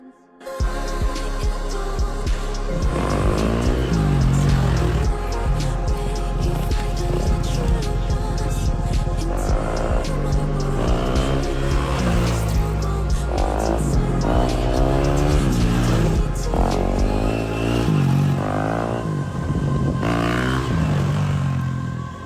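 A KTM EXC-F 350 enduro motorcycle being ridden, its engine revving up and down in repeated climbing and falling sweeps, loud and close throughout for over twenty seconds.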